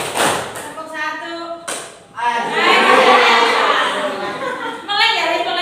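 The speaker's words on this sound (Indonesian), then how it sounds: "Tepuk tangan 1. Tepuk tangan 2. Tepuk tangan 3." A class of children claps in rhythm in a classroom, sharp bursts of hand claps that swell into a dense, loud round while a teacher's voice counts over them.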